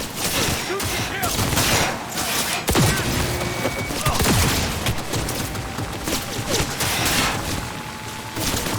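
Sustained gunfire from a firefight in Cyberpunk 2077 rattles almost without pause, dense overlapping bursts and thuds with shouting voices mixed in.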